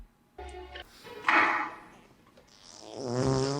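A short, blatting fart, a few seconds of raspy sputtering bursts with a brief pause in the middle, heard close up without talk.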